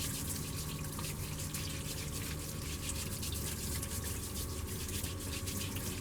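Tap water runs steadily into a studio sink while freshly dug sweet potatoes, still loose with dirt, are washed; a constant close hiss with faint drips, no talking.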